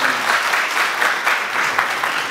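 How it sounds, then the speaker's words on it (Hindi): Sustained applause from an audience at a speech competition event in Pakistan, a steady dense clatter of many hands clapping throughout. "जरा तालियां बजा के बताएं"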